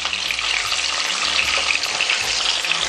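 Pomfret fish coated in besan fries in a pan as it is flipped, giving a steady, loud, dense sizzle that holds evenly throughout with no voices.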